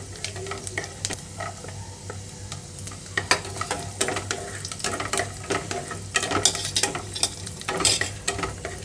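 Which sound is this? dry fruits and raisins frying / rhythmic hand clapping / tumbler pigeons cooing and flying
dry fruits and raisins frying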